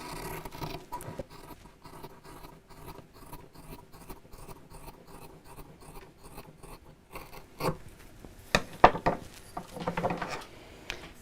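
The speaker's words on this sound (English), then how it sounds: "And cut out through both pieces of fabric." Scissors cutting through two layered pieces of fabric for a sewn angel decoration, a close, steady run of short rhythmic snips and rasps followed by louder, more irregular handling near the end.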